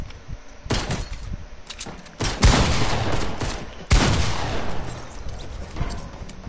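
Gunfire rings out in a video game, a few sharp, loud shots followed by rapid bursts and echoing blasts.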